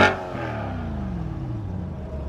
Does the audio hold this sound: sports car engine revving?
yes